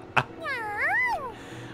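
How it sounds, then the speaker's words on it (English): A big cat in the video game Super Neptunia RPG gives one clear, rising-and-falling meow lasting about a second, preceded by a short sharp blip, over a quiet game background. "Oh, that's a big cat."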